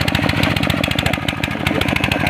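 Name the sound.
used Sanyo water pump motor running as plant sprinkler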